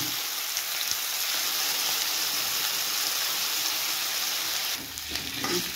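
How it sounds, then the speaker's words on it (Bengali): Taro (kochu mukhi) frying in a pan, with a continuous bright sizzle and crackle that runs steadily, dipping briefly near the end as the pieces are stirred. "কচুরমুখীগুলো অল্প ভাইজে নিতে হবে"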